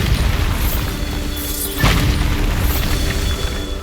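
A Bombarda blasting spell in the video game Hogwarts Legacy sets off one loud booming burst midway, over a steady, dense game background of ambience and music.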